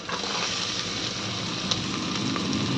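Carrots sautéing in a pan for vegetable coconut rice give a steady, close sizzle and fry hiss that runs unbroken, with a few soft scrapes and clicks on top and no talk.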